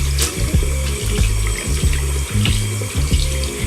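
A face massage roller is rinsed under a running tap, giving a steady splashing stream of water into a sink with small clunks and shifts in the flow as it is turned about.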